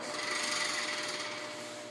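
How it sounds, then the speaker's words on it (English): A 2004-2014 Ford F-150 4x4 vacuum hub under partial vacuum from water intrusion gives a faint, steady raspy buzz with a thin humming tone that holds evenly for the whole moment. "if it gets a partial vacuum, because of the water, it's going to do this noise"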